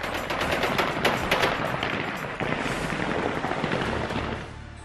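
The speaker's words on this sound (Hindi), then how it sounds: "काबुल एयरपोर्ट और काबुल की सड़कों पर तालिबान ने गोलियां दागकर जश्न मनाना शुरू कर दिया" Rapid bursts of celebratory gunfire by the Taliban in Kabul rattle continuously, automatic volleys overlapping into a dense, loud barrage with no pause.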